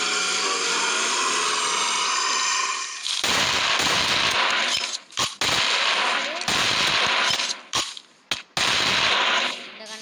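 Gunfire from the Tech Guns mod in Minecraft, long loud bursts of rapid automatic shots with short gaps between them, close and harsh.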